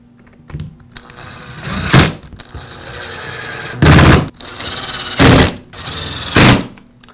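A powered driver sinks screws into the plastic housing of a Milwaukee cordless drill: four loud, buzzing bursts, each lasting about a second, separated by short quieter gaps with handling noise.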